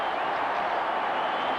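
Steady, dense roar of a stadium crowd at a 1990 Minnesota Vikings home game against the Denver Broncos, a continuous wash of cheering and noise with no distinct breaks.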